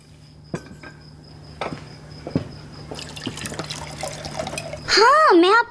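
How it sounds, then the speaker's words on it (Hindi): Water is poured to serve a drink, trickling and dripping with light clinks of dishware through a quiet room, ending in a louder gushing fill near the close. "एलिफ, पानी देना जरा।"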